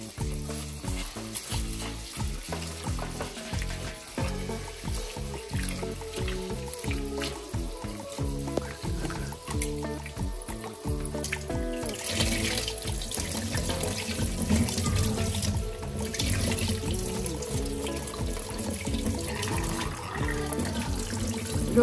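Khapli wheat grains, about 400 grams, washed under a running kitchen tap: a steady, fairly loud rush of water with splashing through the grains for the whole stretch, and no talking.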